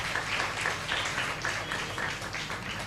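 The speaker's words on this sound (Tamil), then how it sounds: "இப்போ கைதட்டு கொடுங்க." A church congregation claps together in steady, dense applause that fills the room, loud and continuous for the whole stretch.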